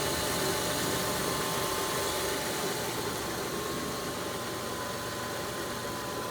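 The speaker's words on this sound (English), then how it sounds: "This fan's always had this noise." The engine fan of a 2002 Kia Sedona runs with a steady, dense whirring drone and a faint tonal whine, continuous and unchanging, heard close with no talking.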